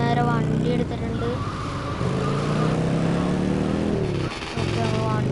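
Car in a video game driving and revving, engine tones rising and falling in steady loud sweeps, with a voice talking over it.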